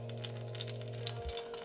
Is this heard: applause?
no